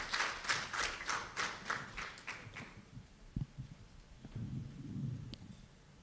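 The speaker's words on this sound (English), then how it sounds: "Another round of applause for these ladies and gentlemen." Applause from an audience at a family planning commitments launch event: clapping in a steady, rhythmic beat for about two and a half seconds, then fading to a quiet room with a few soft knocks and rustles.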